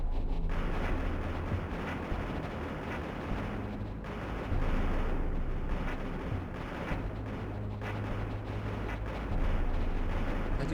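Gunners and rocket launchers firing in the mech video game Mech Engineer, a dense continuous barrage of rumbling blasts and booms with loud surges throughout, no talking.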